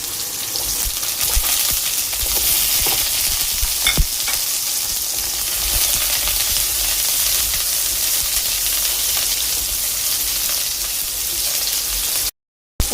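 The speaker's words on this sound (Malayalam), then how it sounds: "അതിലേക്ക് ചുവന്നുള്ളി ഒന്ന് വറുത്തെടുക്കണം." Shallots frying in a pan for a chicken chammanthi podi, giving a steady, close sizzling hiss throughout with occasional stirring scrapes, then a brief cut to silence near the end.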